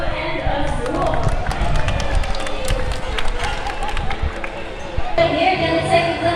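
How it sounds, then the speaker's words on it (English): An audience at a bird show at Cebu Ocean Park claps in a lively, dense patter of hand claps that runs steadily throughout, with bright sharp transients and some crowd noise mixed in. "how about the round of applause for blue and Azul?"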